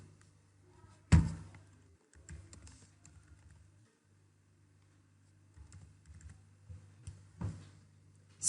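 Code is typed on a computer keyboard, with sparse, quiet key clicks in irregular bursts and a couple of louder thumps against a faint hum.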